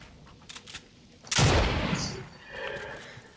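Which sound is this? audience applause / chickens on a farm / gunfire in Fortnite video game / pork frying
gunfire in Fortnite video game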